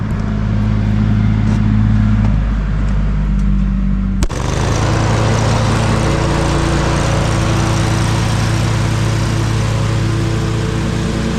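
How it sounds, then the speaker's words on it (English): A heavy-duty lawn mower at a leaf cleanup runs in a loud, steady engine drone. Its tone shifts abruptly partway through and then holds a constant roar, with no talking. "Look at that mower, that bad boy mower."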